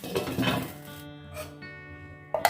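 Boiled jackfruit pieces are lifted out of a metal cooking pot with a utensil, giving a few soft scraping clinks early on and a sharper metallic tap at the end, all fairly quiet.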